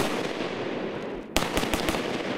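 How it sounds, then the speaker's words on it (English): A few sharp, loud bangs crack out in quick succession after a steady background hiss, like gunshots fired close by. "Everybody know when I'm home, they hear gunshots."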